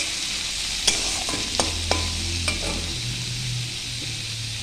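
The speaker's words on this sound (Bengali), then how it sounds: "এখন আমি দিয়ে দিচ্ছি কালো জিরে ফোড়ন, আর দিয়ে দিচ্ছি পেঁয়াজ কুচিগুলো। দিয়ে ভালো করে ফ্রাই করে নেব।" Onions and nigella seeds frying in hot oil in a wok: a steady close sizzle with a few sharp utensil clinks and scrapes as they are stirred, no talking.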